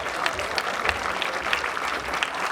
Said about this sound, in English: Can we give a big round of applause, everybody, please?